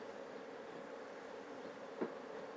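Honey bees buzz around an open hive in a steady, moderately loud drone that fills the air, with one brief, sharper knock near the end.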